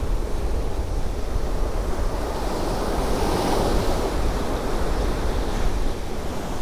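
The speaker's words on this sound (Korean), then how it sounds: "파도 소리는 시원시원합니다." Steady roar of ocean surf washing onto the shore at Uljin, North Gyeongsang, South Korea, continuous and full, with some wind noise across the microphone and no voices.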